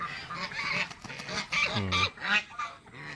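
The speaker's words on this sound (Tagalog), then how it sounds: "May Peking duck, may gansa, may mga bibe." Peking ducks, geese and other ducks honk repeatedly close by on a duck farm, a jumble of overlapping nasal calls with one long, loud honk in the middle.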